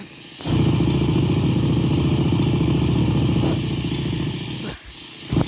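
Motorcycle engine in a video game, with a character wearing a helmet, holds a steady loud idle-like rumble for several seconds, then cuts off briefly before a short burst at the end.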